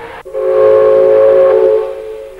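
A loud steam whistle blows as one sustained, steady tone after a brief opening note, then fades slightly at the end.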